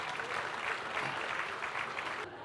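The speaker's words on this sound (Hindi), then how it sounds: "बहुत मोहतरम राशिदा बाकी हया साहिबा का इस्तकबाल करेंगे ज़ोरदार तालियों।" An audience at a women poets' Urdu mushaira applauds to welcome a poet onstage. The clapping is soft and somewhat distant and forms an even patter that cuts off near the end.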